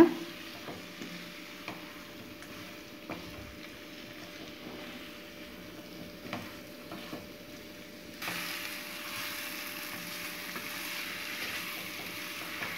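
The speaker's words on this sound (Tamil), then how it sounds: "இந்த மசாலாலாம் சிக்கனில் நல்லா ஒட்டி சுருண்டு வர வரைக்கும் கொஞ்சம் நல்லா ஃப்ரை பண்ணிக்கலாம்." Chicken coated in pepper masala frying in a pan over a medium flame, a faint, low sizzle with occasional soft spatula scrapes and taps, growing a bit louder and hissier toward the end.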